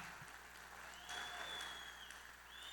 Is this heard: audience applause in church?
yes